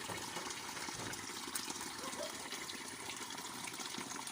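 Water from a mountain source gushes steadily from a pipe in a constant, even rush with no pauses, fairly close and unchanging throughout.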